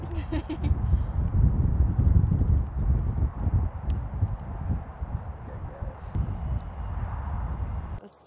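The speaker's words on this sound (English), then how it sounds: "this wind's gonna kill me" Strong wind buffeting the microphone on an outdoor set during a romance book photo shoot, a steady loud rumbling roar that lasts the whole time with only a few faint clicks.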